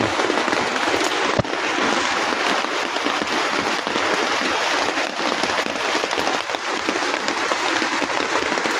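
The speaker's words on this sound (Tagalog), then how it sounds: "Tumuloy talaga yung ulan." Steady, dense rain pours without letup, a constant hiss with scattered patter and one sharp tap near the start.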